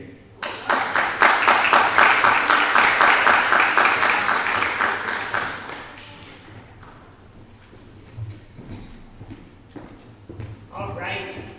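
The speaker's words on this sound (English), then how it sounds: "Let's give him his proper applause." An audience at a fundraising impact presentation bursts into loud, close applause for several seconds. The clapping then thins to scattered claps as voices begin talking.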